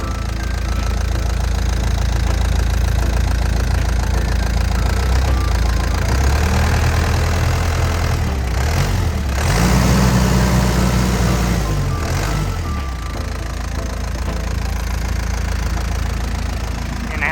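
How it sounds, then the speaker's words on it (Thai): A Hitachi LX70-5 wheel loader's heavy diesel engine idles steadily and loudly up close, with a rough, knocking low rumble that swells briefly midway. "เครื่องยนต์ทำงานได้แน่นดีมากๆ"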